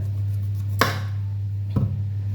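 A knife chopping through firm beetroot on a board, two distinct sharp cuts about a second apart, close and clear over a steady low hum.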